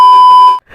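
An alarm clock gives one loud, steady, high electronic beep lasting about half a second, close and alone, before it cuts off.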